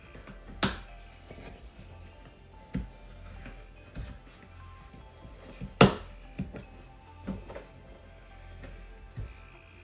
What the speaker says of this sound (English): now I can latch all the other latches